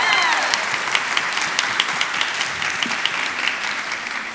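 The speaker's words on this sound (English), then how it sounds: "how about a round of applause for Carrie for emceeing tonight in his wonderful jacket?" Audience applause at an arts awards evening, a steady, full wash of many hands clapping throughout, fairly close and loud, with no speech over it.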